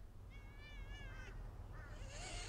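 Cats meowing in the video game Thirty Flights of Loving: a drawn-out, wavering meow calls near the start, followed by a shorter, fainter meow, over a low steady hum.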